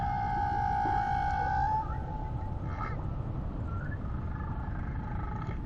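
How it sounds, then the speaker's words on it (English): Far-off whale song drifts in as long, faint, wavering tonal calls, with a steady sustained moan that gives way to softer rising and falling notes over a low rumbling ocean background. "You can basically detect a whale that's around 100 kilometers."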